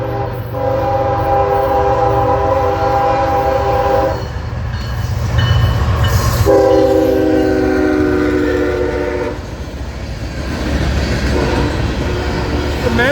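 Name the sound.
CSX freight train passing with horn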